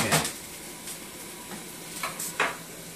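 Microwave discs brown in a hot pan, giving a steady sizzle broken by a few sharp scraping clatters of stirring against the pan.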